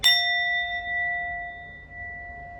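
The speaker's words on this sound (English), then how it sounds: "either ring a bell" A single bell is struck once loudly, then rings on with a clear, steady tone that slowly fades over a few seconds, heard alone with no voices.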